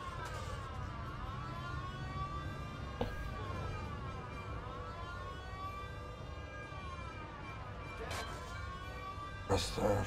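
Police car sirens in the game Mafia, several wailing sirens rising and falling in overlapping sweeps over a steady engine rumble, with a few sharp thumps and a voice talking faintly underneath.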